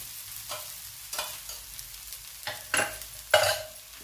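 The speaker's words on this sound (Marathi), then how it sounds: "खुसखुशीत असं भाजलं जातं आणि या साईडने तेल सोडलं" Wheat-flour thalipeeth flatbread frying in oil on a pan, with soft sizzling and several scraping stirs and crackling bursts close up, growing louder toward the end, no talk.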